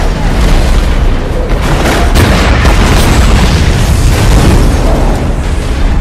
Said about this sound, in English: It was supposed to explode.